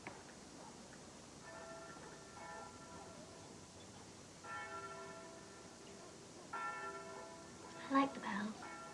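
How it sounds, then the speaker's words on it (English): Church bells ring faintly in the distance in a few spaced bursts, with soft voices and background murmur around them. "I like the bells."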